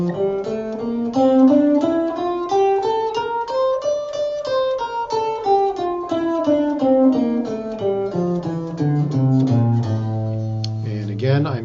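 Guitar playing the A Phrygian mode in a three-notes-per-string pattern, a steady run of single plucked notes climbing and then descending, ending on a sustained low note, loud and close with no talk.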